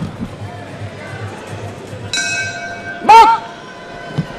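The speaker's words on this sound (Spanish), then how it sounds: "Campana y arranca la pelea." Boxing match bell ringing to start a professional fight, a bright metallic ring with a lingering tone followed by a sharper strike, set against arena crowd noise and commentary.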